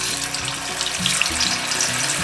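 Tofu frying in hot oil makes a close, continuous sizzle with crackling bubbles across the whole stretch, no one speaking.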